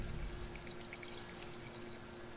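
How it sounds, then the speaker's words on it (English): Water pours out of a canteen in the video game Life is Strange 2: a steady, close splashing gush that runs for a couple of seconds, loudest at the start, with no voices. "Il est temps de vider la gourde."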